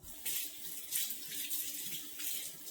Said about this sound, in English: I'll rinse it off real good.